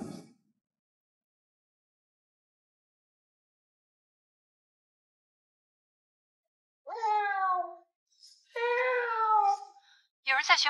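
A person's voice imitates a cat meowing inside an enemy army camp, giving a few drawn-out, wavering meows close by after a long stretch of silence.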